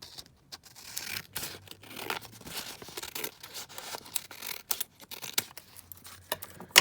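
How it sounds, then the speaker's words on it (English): Scissors snip through a sheet from a 12x12 paper pad, quiet close-up cuts in a run of short irregular bursts with brief gaps, mixed with faint paper rustle. "let's just quickly cut this one down as well."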